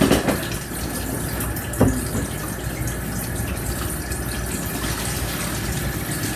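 Water pours off a pot of boiled pork neck bones as it drains, a steady close splashing rush with a couple of sharper sloshes near the start.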